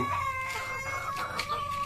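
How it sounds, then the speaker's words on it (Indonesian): Hens about to lay eggs cluck and croon in a steady, close chorus, a rooster-like tone sustained throughout with soft rhythmic clucks layered over a constant farmyard murmur. "kayak gitu adalah suara ayam yang sebentar lagi bertelur"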